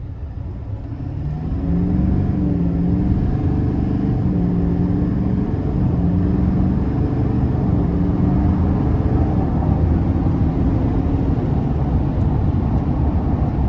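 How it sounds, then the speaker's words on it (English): A 2025 GMC Sierra 2500HD AT4 pickup with a Duramax diesel accelerates hard, its deep, steady engine roar swelling after the first two seconds and holding loud and close, with rising harmonic tones as it pulls. "so I'm gonna give it a pull."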